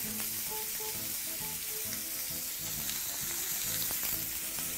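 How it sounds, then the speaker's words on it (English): Lamb pieces brown in a hot pan for a soy lamb stew, giving a loud, continuous, dense sizzle and crackle that runs without a break from start to finish. "trying to brown meat and you're also trying to avoid it from holding on to"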